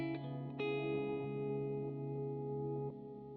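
Electric guitar notes ringing out through the digital delay of a Matthews Technician delay/reverb/looper pedal, each attack repeating in clean, fading echoes that sustain and overlap.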